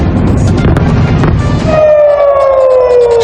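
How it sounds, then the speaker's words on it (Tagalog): A loud rumble of missile blasts gives way to a rising air raid siren wail in Tel Aviv, Israel, one steady tone sliding slowly downward as it continues. "ang alingaw-ngaw na mga sirena sa Tel Aviv"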